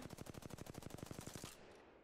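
Rapid automatic gunfire from a weapon in Apex Legends, about fifteen evenly spaced shots in a fast burst that cuts off sharply, followed by a short fading tail.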